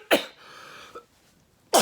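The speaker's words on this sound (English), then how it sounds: "I can't talk without coughing" Two sharp coughs, one at the start and one at the end, from a person with COVID-type symptoms who says talking hurts, with a quiet breathy pause between them.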